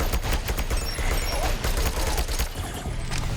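Rapid bursts of automatic machine-gun fire in the game Sentry crackle continuously, dense and sharp, with a constant game-like background hum.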